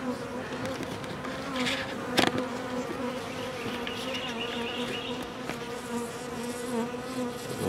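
A steady, dense buzz of many bees fills the air around a hive, continuous and close, with a few brief louder knocks partway through.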